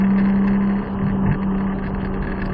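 A Nissan Skyline R34 GTR on a track, its engine droning loud and close with a steady strong tone, dipping briefly before pulling again under light throttle.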